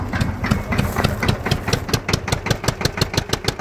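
A 1955 Fendt Dieselross F12 GHA tractor's diesel engine idles close by with an even, rapid, thumping knock that repeats steadily throughout, with no voices over it.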